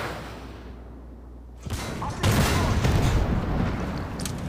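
Artillery hits slam into tanks in Armored Warfare. A quiet rumble gives way to a loud, sustained blast and crackling impact noise that lingers.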